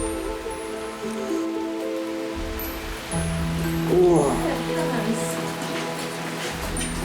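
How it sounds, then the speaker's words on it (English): Rain falling at Kinnitty Castle, Ireland, on a late evening, a steady wash of patter under a continuous low rumble with tonal hum, while a person talks over it midway. "despite the best efforts of the rain to wash us away"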